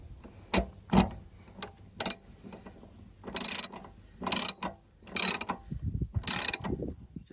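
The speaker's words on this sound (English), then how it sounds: "Get your ratchet." A hand ratchet tightens a sacrificial anode rod into a caravan hot water system, giving bursts of clicking in separate runs spaced about a second apart, close and clear, with no talk.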